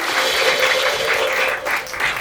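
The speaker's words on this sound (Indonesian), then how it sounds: "Berikan tepuk tangan lebih baik lagi untuk Tuhan." Applause from a church congregation during a worship service at GBI Pantai Permata in Batam, a steady, dense wash of clapping that fills the whole stretch at full level with no voices on top.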